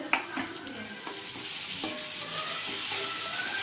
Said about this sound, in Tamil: இதையும் போட்டு கொஞ்சம் வதக்கிக்கிறோம்.